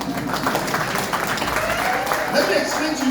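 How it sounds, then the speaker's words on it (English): An audience at a public talk breaks into steady, dense clapping that fills the room for a few seconds, with voices mixed in underneath. "I'm not asking you to clap for me,"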